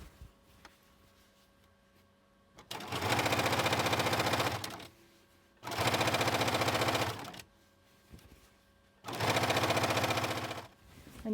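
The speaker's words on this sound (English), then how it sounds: "I'm sewing a king binding." A sewing machine stitches binding onto a king-size quilt in three steady, even runs of fast whirring stitching, each a few seconds long and separated by short pauses with a faint background hum.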